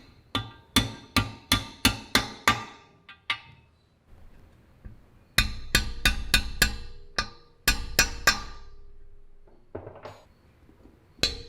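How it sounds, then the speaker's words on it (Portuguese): A small hammer gently taps pins into a Volkswagen Beetle engine, giving two bursts of light, evenly spaced metallic taps, about six to eight each, close and fairly crisp with short pauses between them. "vou precisar de um martelinho para dar uma batida nele devagarinho"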